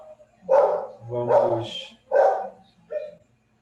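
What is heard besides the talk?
dog barking in the background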